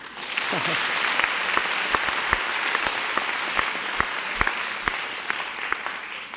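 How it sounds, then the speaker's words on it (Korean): An audience at a university interview session applauds strongly and steadily, with a few sharp individual claps standing out near the front and no talk over it. "박수도 한번 세게 한번 쳐주십시오"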